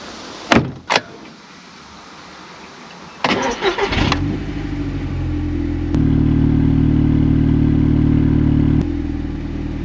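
An Audi TT engine cranks briefly, catches and settles into a steady close idle that runs on to the end, following a few sharp clicks and knocks at the start.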